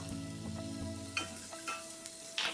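Spiced peas sundal stirred in a pan with turmeric and garam masala, a soft frying sizzle under a steady hum, with a few faint scraping strokes of the spoon spaced through the short stretch.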